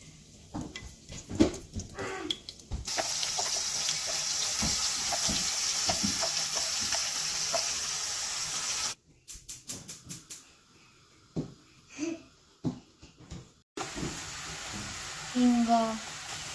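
Whole spices such as mustard seeds and cumin dropped into hot oil left from frying paneer, a steady close sizzle broken by stirring clatter and short pauses, with faint talk in the background.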